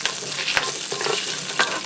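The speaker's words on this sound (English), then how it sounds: "And those beef juices are caramelizing in the pan." Beef juices and olive oil with a little melted butter sizzle in a skillet, a close, steady crackling hiss with a few sharper pops, and no voices.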